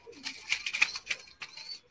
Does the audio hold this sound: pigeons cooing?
yes